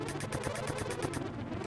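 Repeated cannon fire in a naval ship battle in the video game Uncharted Waters: a rapid run of loud booming shots at a steady rhythm, with no talk.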